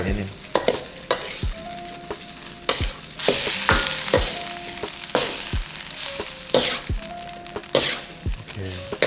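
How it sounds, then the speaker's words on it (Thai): Cornstarch-thickened sauce boiling over high heat while a spatula stirs and scrapes the pan, giving repeated sharp metal clinks and scrapes over a steady bubbling sizzle, close and moderately loud. "ใส่แป้งข้าวโพดน้ำจะเดือดขึ้น ไฟต้องร้อนนะ"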